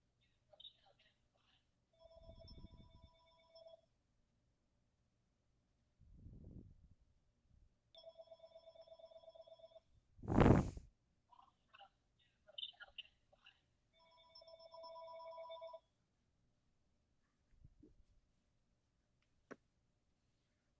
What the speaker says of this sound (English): What in the 2010s home phone is that? It's an old home phone.